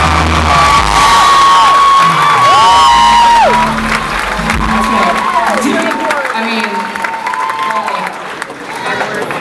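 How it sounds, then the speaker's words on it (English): A concert audience at a show applauds and cheers loudly, with whoops and whistles rising over a dense, steady roar that tapers off slightly toward the end. "I want you to applaud furiously"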